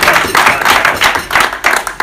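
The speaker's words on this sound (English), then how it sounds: "round of applause for Danny" A small studio group gives Danny a brief round of applause, dense close clapping in quick uneven pulses lasting about two seconds with little talk over it.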